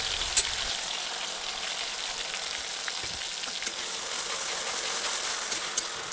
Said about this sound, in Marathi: त्या कढईत 2 चमचे तेल गरम झालं की इथं मी घेतली शिमला मिरची, बारीक वाटून घेतलेली शिमला मिरची